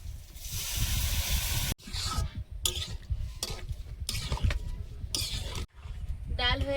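Lentils tipped into sizzling spices with cumin powder and salt in a pan, a loud hissing splutter broken by sharp clattering stirs and scrapes, with brief speech in between.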